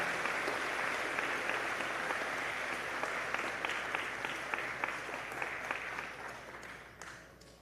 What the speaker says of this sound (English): Let's give all of our graduates a huge round of applause.